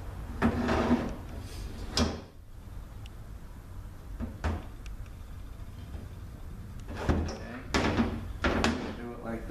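A 6L80E transmission valve body being pried apart by hand, giving several separate close metallic clunks and scrapes spaced across the clip against a quiet background.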